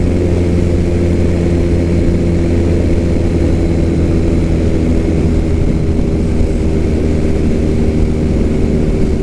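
A modified Triumph Bonneville motorcycle engine drones steadily and loudly while riding, a continuous low rumble with wind noise and no pauses.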